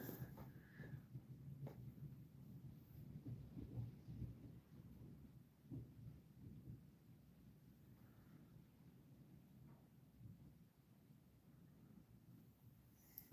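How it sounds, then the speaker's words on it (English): Low rumbling thunder and rushing wind from a strong outdoor storm, a continuous dull roar that swells and fades without clear breaks. "Oh, this storm is blasting out here"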